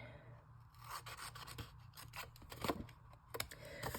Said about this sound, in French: je vais venir découper l'autre côté ici